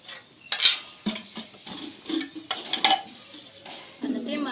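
A clay cooking pot is set on a lit stove: scattered clunks and scraping knocks of earthenware and utensils, fairly close and moderate in level, with no clear speech.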